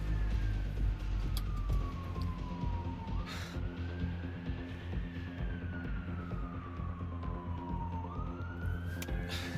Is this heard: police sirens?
yes